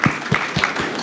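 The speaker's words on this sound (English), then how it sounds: "a round of applause for Dr. Sanwo Mugasi." Conference audience at an Africa investment session giving a brief burst of applause, a few loud claps from a nearby crowd.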